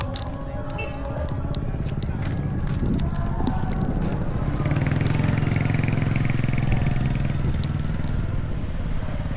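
A motorcycle engine drones steadily nearby with wind buffeting the microphone, its rumble growing slightly louder midway.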